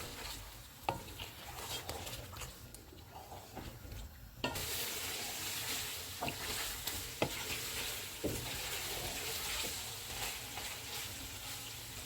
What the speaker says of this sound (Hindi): फेंटा हुआ दही डालेंगे, सारे मसाले डालेंगे, मेथी, इनको ऑयल अलग होने तक भूनेंगे।